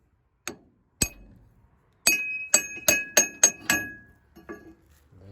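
Hammer blows drive a steel pin through an AC-440 tractor hitch: two early strikes, then a quick run of five or six sharp metallic clinks with ringing decay, close and loud with no talk.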